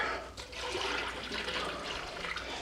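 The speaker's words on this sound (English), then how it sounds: "A little more cold water." Cold water poured into a container while making hard seltzer, a steady broadband rushing splash running continuously close to the microphone, fairly loud and alone without talk.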